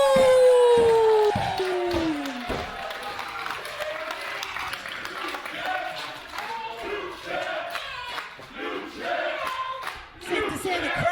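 A wrestling crowd at a women's wrestling event roars for Sandra Moone, with dense sustained cheering, shouts and clapping filling the hall while an announcer talks over it.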